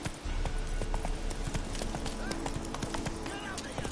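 Horse hooves clip-clop at a steady rhythm on a road in The Witcher 3, close and clear, with game ambience beneath and a voice speaking over them.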